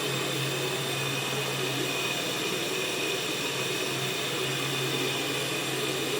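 An electric mixer beats foamy batter as milk and oil are added, giving a loud, steady whirring drone that runs throughout with no talking.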